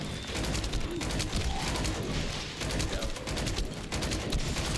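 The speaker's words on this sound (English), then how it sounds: "so here's a missile" Dense, continuous gunfire and explosive bursts from The First Descendant shooter game, with a missile launch lost in the loud, unbroken combat din.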